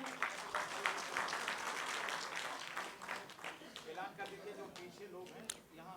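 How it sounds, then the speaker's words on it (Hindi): Clapping from the audience at a mushaira poetry gathering, moderate and uneven, with someone talking over it through most of the stretch. "ज़ोरदार तालियां साजिद भाई के लिए हो जाएं"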